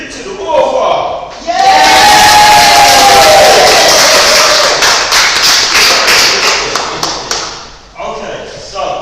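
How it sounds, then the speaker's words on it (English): A crowd at a book-signing event claps and cheers with shouts of yay, a loud burst of mixed applause and voices that rises sharply, sustains, then drops away, with talking before and after. "If you can add a yay and a clap as well."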